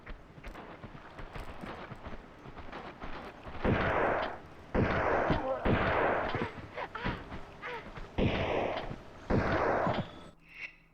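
Heavy explosions boom in the Tomb Raider II video game as grenades are thrown, a series of about six loud, roaring bursts with smaller crackling hits between them.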